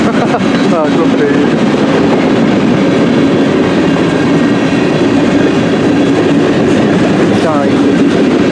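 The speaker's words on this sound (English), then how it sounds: "CN M384 northbound train, I can tell" CN M384 northbound freight train passing close by, a loud continuous rumble of railcars with rhythmic wheel clatter and occasional squeals, voices talking over it.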